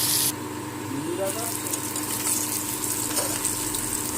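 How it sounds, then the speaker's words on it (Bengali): Rohu fish pieces fry in hot oil in a kadai, a steady low sizzle and crackle heard close up, with faint background voices and household noise beneath it. "তেল গরম হয়ে গেছে, আর মাছগুলো দিয়ে ভালো করে ভেজে নেব লাল লাল করে।"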